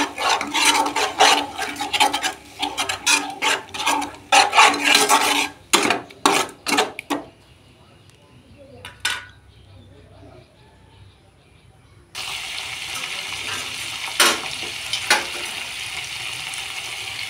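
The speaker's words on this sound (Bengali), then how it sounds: "সমস্ত মশলা দিয়ে মশলাটা ভালো করে কষে নেব।" Spices for a vegetarian potato, pointed gourd and soybean curry are stirred and scraped in a pan, with rough, irregular rasping strokes that pause midway, then a steady sizzle and a few more scrapes.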